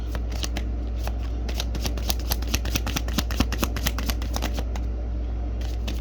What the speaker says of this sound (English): a card that flipped over during the shuffling